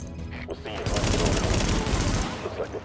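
Rapid automatic gunfire in the video game The Division, a dense sustained burst of shots up close lasting over a second, with brief quieter moments before and after.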